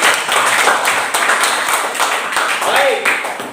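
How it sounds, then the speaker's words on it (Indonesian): Students give a short burst of applause in a classroom during a biology lesson on xylem and phloem, with a continuous ragged clatter of claps and some voices mixed in. "tepuk tangan untuk ini"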